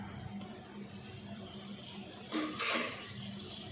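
Broken rice and masoor lentils boil in a pot, giving a faint, steady bubbling hiss that swells briefly louder near the end.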